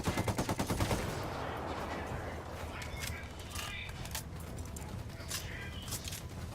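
Gunfire in the tactical shooter Ghost Recon Wildlands: an opening burst of quick, evenly spaced automatic shots, then scattered shots and crackling fire over ongoing battle noise, with voices speaking over it.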